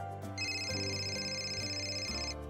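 A telephone rings with a steady electronic tone over faint background music, one continuous ring lasting about two seconds.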